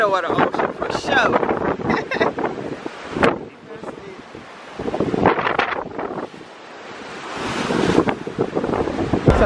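Ocean waves and strong wind on the open deck of a Norwegian cruise ship at sea, a steady roar with gusts and wind buffeting the microphone, while people talk over it.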